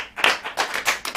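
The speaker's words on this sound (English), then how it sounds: "Gonna get a round of applause for that." A few people clapping for a danger soundscape workout piece, uneven bursts of claps over about a second, close and fairly loud, with no crowd wash.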